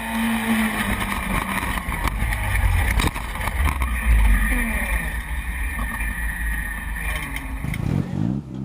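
A 4x4 off-road vehicle's engine roars and revs continuously at an off-road obstacle competition, rising and falling in pitch as it accelerates nearby and ramps up the exit, with a rumbling low end throughout.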